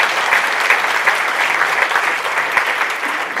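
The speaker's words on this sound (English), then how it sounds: "Let's give another round of applause." A university student affairs and enrollment management staff audience gives a full, sustained round of applause during a monthly all-staff meeting. The clapping is dense and even and carries on unbroken throughout.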